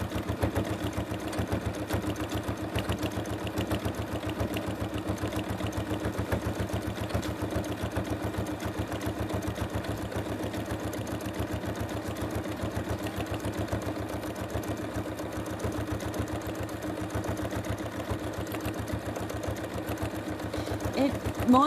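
A sewing machine stitches through thick quilt layers in a collage-piecing project, running in a fast, steady mechanical chatter for the whole stretch, close and continuous with no pauses.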